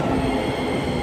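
A Tokyo subway train rumbles steadily along the rails, wheels grinding with a faint high squeal, loud and continuous from inside the carriage.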